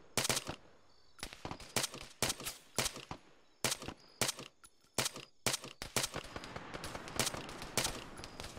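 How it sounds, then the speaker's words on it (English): Rapid automatic gunfire in the Arma 3 military shooter, sharp repeated bursts and single cracks in irregular clusters, some close and loud, others slightly softer, with brief pauses between volleys. "You're getting shot at."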